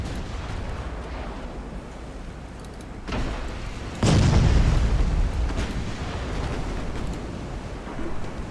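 A torpedo strikes a warship in the naval battle game Ultimate Admiral: Dreadnoughts, a heavy booming blast about halfway through that rolls on as a rumbling roar after a sharper crack just before it, over steady background noise.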